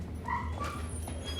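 A German Shepherd yips and whimpers during an obedience training session, short high dog vocalizations standing out over a constant low rumble of background noise.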